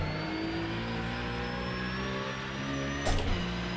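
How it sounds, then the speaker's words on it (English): In the Automobilista 2 racing game, a car's tyre catches a rain puddle: a brief hissing splash bursts through the steady loud engine drone near the end. "Big puddle on the inside there, as it should be. You just heard the tyre just catch that."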